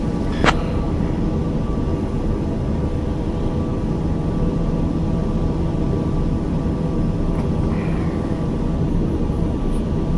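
TBM 850 turboprop in a flight simulator on landing approach, a steady loud engine drone with a constant hum, no voices over it.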